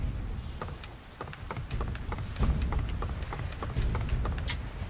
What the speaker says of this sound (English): This rain just never stops.